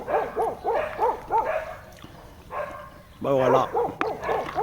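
Neighbours' dogs bark repeatedly beside a lock on the Aisne river, a run of barks and yelps that rise and fall under and between a man's speech.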